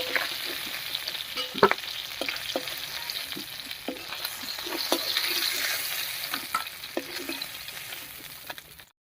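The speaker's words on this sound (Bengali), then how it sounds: "মাছগুলো ভাজা হয়ে গেছে একবার নামিয়ে নিচ্ছি" Pieces of fish frying in hot oil are lifted out of the pan: a steady close sizzle with sharp clinks and scrapes of a utensil against the pan.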